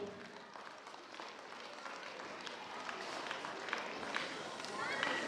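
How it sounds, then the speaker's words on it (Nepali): An audience at a school's annual function and parents' day welcomes a guest with applause. The clapping is fairly faint and distant, swells gradually toward the end, and runs under some background voices and movement. "जोडमा तालीले स्वागत गरिदिनु अनुरोध गर्दछु।"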